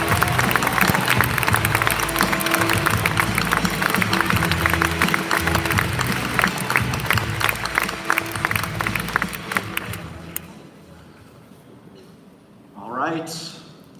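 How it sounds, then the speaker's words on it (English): A large audience at the iGEM Giant Jamboree 2018 awards ceremony bursts into loud, dense applause with some cheering, sustained for about ten seconds before it fades into quiet room tone and a brief voice. "I'd like to give OLS Canmore Canada a round of applause that they can hear wherever they are"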